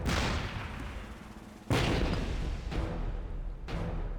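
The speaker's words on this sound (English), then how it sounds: "What is with the explosions in this game?" Repeated heavy explosions from the video game Rogue Warrior boom one after another, loud and close, each burst rolling out into a long rumbling decay before the next one hits.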